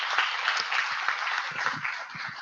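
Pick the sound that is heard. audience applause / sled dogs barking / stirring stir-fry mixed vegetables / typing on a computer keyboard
audience applause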